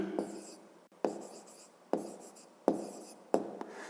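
Pen or pencil writing out a fifth-grade maths answer, five or six distinct strokes and taps spaced about a second apart, each followed by a short scratchy trail, close and clear with no speech.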